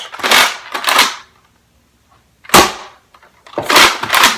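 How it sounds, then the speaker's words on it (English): Nerf Mega toy blaster firing four times in two pairs with a pause between, each shot a sharp, loud, close burst with a short airy decay. "Watch, I'll shoot right here."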